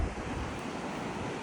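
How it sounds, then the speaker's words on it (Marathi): Ocean surf rolls steadily onto a Konkan beach at sunset, a continuous loud wash of breaking waves mixed with wind rumbling across the microphone, with no voices. "बीचला आलोय बघू शकता."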